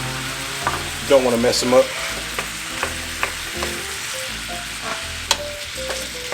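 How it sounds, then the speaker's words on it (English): Sausage browns and sizzles in a new pan while a wooden spoon stirs and scrapes it, giving steady frying crackle with a few louder scrapes and clacks, and a person speaks briefly over the cooking. "just make sure that you really brown your sausage."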